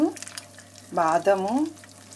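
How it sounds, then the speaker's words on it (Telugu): Cashews, almonds and cardamom fry in hot ghee with a soft, steady sizzle. A spoon stirs now and then, and bright tonal sounds that may be a voice come through briefly. "నెయ్యిలో వేయించుకోవాలి క్యాష్యూస్, బాదము అన్నీ, ఇలాచి."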